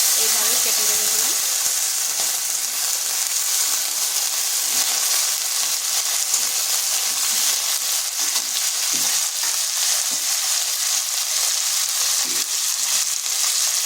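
Cut medium potatoes hit hot oil with dried red chilli and a bay leaf and fry with a loud, continuous sizzle and hiss close by, steady throughout with occasional stirring.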